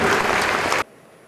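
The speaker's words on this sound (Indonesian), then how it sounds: "Tepuk tangan." Audience applause for a lecture in a Jakarta marketing event, loud dense clapping that cuts off abruptly under a second in, leaving near silence.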